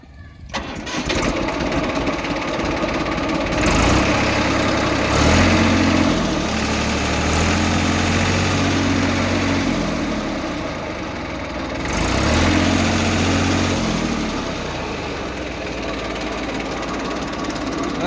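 A New Holland 3230 tractor engine starts and then idles in a steady, loud, low diesel rumble with a rhythmic knocking pulse, heard close up throughout.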